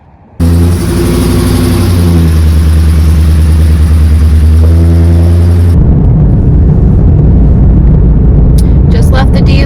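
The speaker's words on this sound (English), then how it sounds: "Just left the dealership with the new motorhome, and my mom's car following JD." A new motorhome pulls away from a dealership with a loud, steady engine drone that starts abruptly, holds a strong low hum, then turns rougher and noisier near the end. No one speaks.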